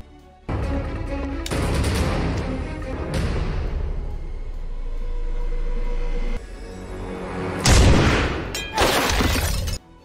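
Sniper rifle fire in an action film scene: several sharp, loud blasts and cracks arrive in separate bursts, each with a rolling tail, against a low rumbling soundtrack.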